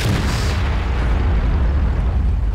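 A tank cannon shot in the video game World of Tanks, fired from the VK 72.01 (K): a single loud, heavy boom at the start that rolls into a deep, sustained rumble and fades slowly.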